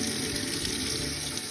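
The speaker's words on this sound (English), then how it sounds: "And we're just gonna add the water now." Room-temperature tap water pours steadily into a bowl for washing wool, a constant close splashing rush with no talk.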